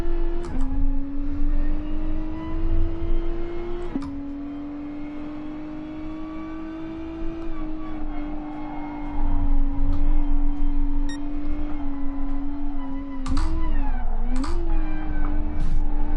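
In GT Sport, an N300 race car laps the Brands Hatch Indy circuit. Its engine drones steadily, holding pitch, then dips and climbs again through braking and gear changes.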